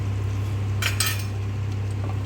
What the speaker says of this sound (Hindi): इसको डाल के थोड़ी देर चला देंगे।